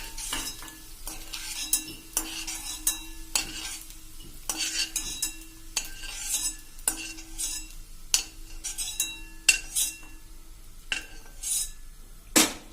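Metal spoon scrapes and clinks against a pan while fried edible gum (gond) is scooped out, a steady run of close stirring knocks over a faint sizzle, no voices.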